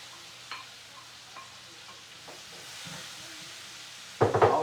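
Sliced mushrooms sizzling in hot bacon fat in a cast iron pan, a soft steady hiss with a few faint taps, ending in a sudden loud scrape and stir of the pan.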